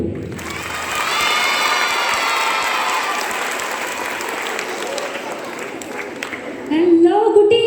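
An audience at a school function applauding the musicians, a sustained wash of clapping from a crowd with some cheering, fading slightly before a louder burst at the end.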